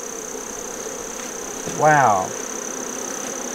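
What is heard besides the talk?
honey bees buzzing around a hive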